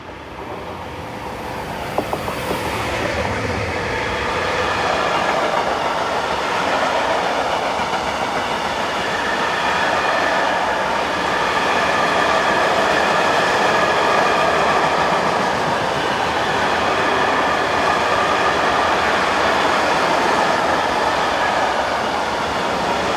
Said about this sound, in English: Private freight company Cargo Serve operate a daily steel train from Linz Steelworks to Tarviso and return.